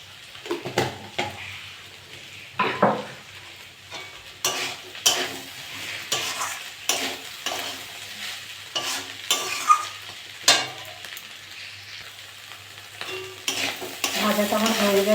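Kakrol (spiny gourd) with prawns and potato stir-fries in a pan, with repeated scraping and stirring strokes over a steady sizzle, close and fairly loud, and no voices.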